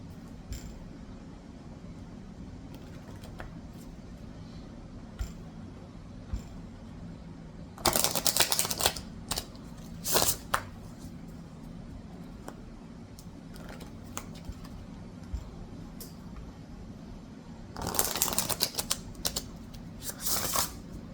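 Tarot cards being shuffled, two bursts of riffling and snapping of the deck, close and crisp, separated by a quieter stretch of room tone.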